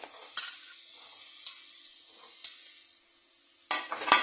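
Onion, tomato, carrot, beans and potato sautéing in a pan give a steady hiss, broken by several sharp spoon-against-pan clinks, the last ones louder and rougher.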